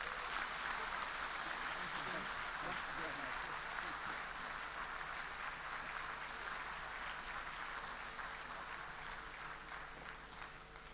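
An audience at an honorary degree conferment ceremony gives sustained applause, dense and even from start to finish, slowly tapering, with murmuring voices beneath.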